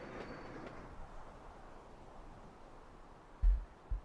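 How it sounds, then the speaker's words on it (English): Trains starting to move in the Sweet Transit rail-building game, a low steady rolling rumble with faint clickety-clack, fairly quiet, ending in a couple of short thumps. "Okay, trains are starting to move."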